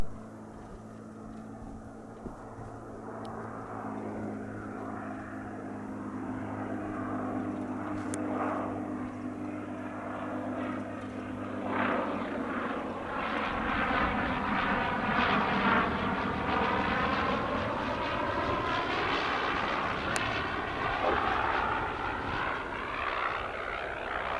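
A general aviation propeller aircraft lands on runway 8 right at Spirit of St. Louis Airport, its steady engine drone growing louder and sweeping past nearby, with no talk over it.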